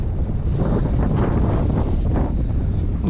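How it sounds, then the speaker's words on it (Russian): Steady wind gusting across an open lake during a winter perch fishing trip, a continuous loud rushing roar buffeting the microphone for the whole stretch, with no voices. "Дует, конечно, дует, но и бог с ним, пусть дует."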